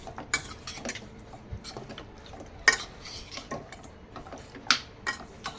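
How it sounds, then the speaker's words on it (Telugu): Chicken being mixed with squeezed lemon juice in a bowl for chilli chicken, heard as close, scattered wet clicks and scrapes of stirring with a few sharper utensil taps against the bowl. "ఇలా నిమ్మరసం వేసిన తర్వాత చికెన్ని కలిపేసేయాలి"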